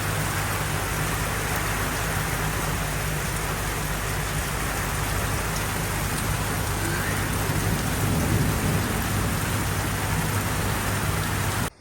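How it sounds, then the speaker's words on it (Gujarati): Heavy rain pours steadily and loudly outdoors, a thick unbroken roar of drops on surfaces, with low thunder rumbling beneath and no voices. "અત્યારે જોરદાર વરસાદ ચાલુ થઈ ગયો છે અને સાથે સાથે થાય છે વીજળી"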